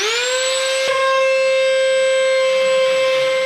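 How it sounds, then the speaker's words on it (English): A router smoothing timber edges emits a loud, sustained high-pitched whine, steady and piercing with a brief bump as the bit bites the wood. "A mate lent me this router. It's designed to evenly smooth edges on timber"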